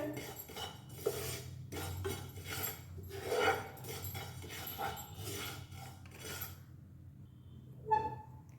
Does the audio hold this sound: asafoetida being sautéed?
yes